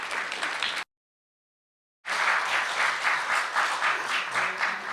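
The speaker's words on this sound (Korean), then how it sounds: "여러분들 뜨거운 박수로 환영해 주시기 바랍니다" A chapel audience at a special lecture applauds to welcome a guest pastor. Dense clapping fills the room, breaks off into about a second of total silence, then returns fuller and louder and keeps going steadily.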